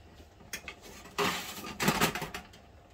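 Fork scraping and clinking against a pan while flipping roasted spaghetti squash halves on a turned-off stove, a few light metallic taps and scrapes spread across the moment, close and fairly quiet.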